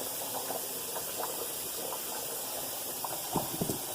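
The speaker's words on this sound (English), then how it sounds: "You see how the rice is boiling over there?" A soft, steady hiss of rice boiling in a pot, with faint bubbling pops and a few small clatters near the end.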